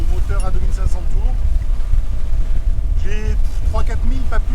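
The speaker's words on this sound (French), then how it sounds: "Et j'ai monté le moteur à 2500 tours." A sailboat's engine runs at 2500 rpm during solo sailing in the Mediterranean off Greece, giving a steady low drone beneath close, continuous talking.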